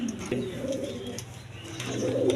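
A pair of red Muslodom pigeons, sitting on eggs, gives low, rolling coos, close and fairly steady across the short stretch.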